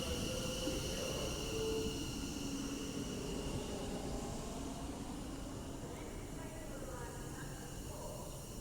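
Train on the West Coast Main Line at Stafford station, a steady rumbling wash of wheels and motors with faint high squeals, heard from the platform under a person talking.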